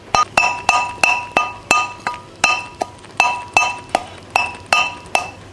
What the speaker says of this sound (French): Après, on ajoute le piment rouge épicé et on écrase tout ça.